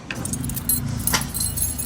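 Keys jangle close by at an auto-rickshaw service centre, a bright continuous metallic rattling that lasts under two seconds, with a low hum of a nearby vehicle underneath.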